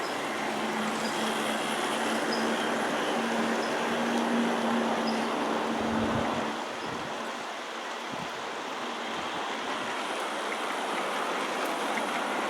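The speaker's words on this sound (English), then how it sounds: "Here the train is passing over itself" Continuous rushing rumble of a G scale model freight train running along its track, fairly close, passing over itself on a loop, with a faint whine and a slight drop in level midway.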